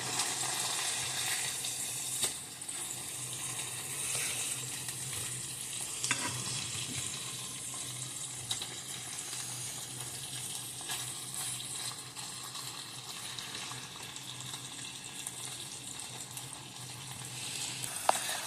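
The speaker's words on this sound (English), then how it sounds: "it's sizzling" Steak frying in a pan, a steady loud crackling sizzle with spitting fat running throughout, a few clinks and scrapes of utensils, and no talking.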